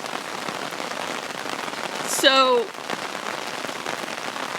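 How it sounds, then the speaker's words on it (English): Heavy rain pours steadily outdoors in a dense, even hiss, and a brief voiced word and a short bird-like chirp break through it once midway. "it's really raining out here right now."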